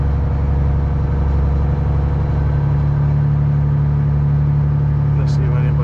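A semi truck with its trailer pulls out, a loud, steady low-pitched diesel drone rumbling continuously from inside the cab with little change in pitch.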